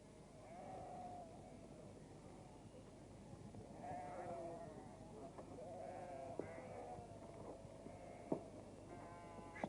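Sheep bleat amid a flock scene in a 1959 film, several wavering calls rising over a dense low murmur of movement, moderately distant and fairly faint throughout.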